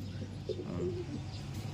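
Soft pigeon coos murmur close by in a loft, a couple of low throaty calls over a steady background hum.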